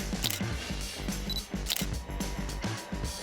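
Camera shutter clicks from a selfie taken with a novelty photo mirror device, several crisp repeated snaps over a steady musical backing, fairly loud and close, with no speech.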